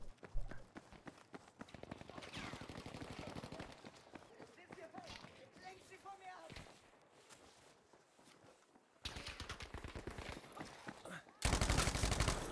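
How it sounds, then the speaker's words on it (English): Tommy gun bursts in Battlefield 5 multiplayer, a rapid rattle of automatic fire in dense stretches, loudest near the end, mixed with footsteps and game noise while a player talks over it. "So I haven't used this the Tommy gun in so long."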